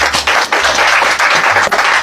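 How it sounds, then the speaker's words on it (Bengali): An audience at a political speech claps together, a steady, loud wash of hand clapping that continues throughout without any talking. "সবাই হাততালি।"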